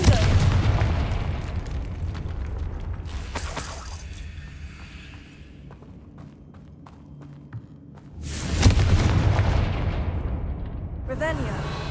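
Fiery explosions from the Confringo blasting spell in Hogwarts Legacy boom out in two heavy bursts amid rumbling game effects, with a voice speaking over the action.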